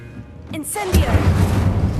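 A fire spell cast in Hogwarts Legacy bursts out as a loud whooshing, rumbling blast about halfway through, after a quieter lead-in with a brief spoken exclamation.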